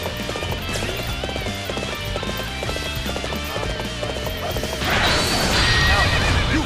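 In the video game Dynasty Warriors 7, a horse whinnies loudly over quick galloping hoofbeats, with a busy battle soundtrack and effects around it.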